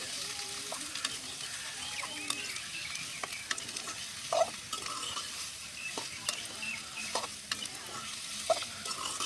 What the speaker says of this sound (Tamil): பெரிய வெங்காயத்தை நீட்டாக வாக்கில் கட் பண்ணி பீஸ் பீஸாக உள்ளே சேர்த்திக்கலாங்க இது அப்படியே நல்லா கிளறி விட்டுடலாம்